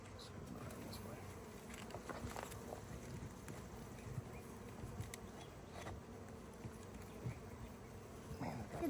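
Honeybees hum in a low, continuous drone while a package of bees is installed into a hive, with faint handling knocks and rustles around them.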